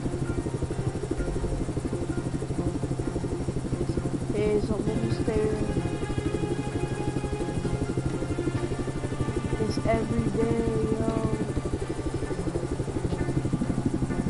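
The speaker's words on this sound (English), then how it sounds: "I'm in this helicopter." A news helicopter in a video game gives a steady rotor buzz beneath game sounds, and voices talk over it throughout.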